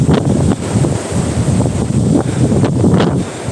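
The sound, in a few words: blizzard wind outdoors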